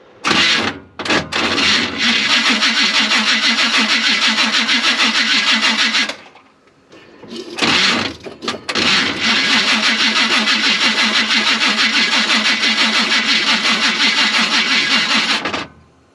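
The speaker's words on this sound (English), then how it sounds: "If I can get this cranked over before it all flashes off." A Chevy truck engine cranks and fires briefly on starting fluid, two loud sustained bursts of cranking separated by a short pause, close and alone.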